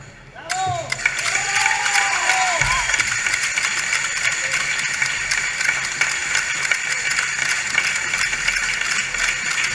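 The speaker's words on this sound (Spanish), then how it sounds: "agradecer sus aplausos" An audience applauds a Zaragoza jota group at the Pilar festival. Dense, sustained clapping fills the space close by, with a whistle or two near the start.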